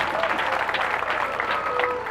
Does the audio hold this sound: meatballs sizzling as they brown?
no